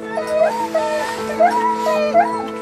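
Sled dogs whimper and howl close by, a chorus of rising, wavering cries repeating in short bursts over a steady, high-pitched whine.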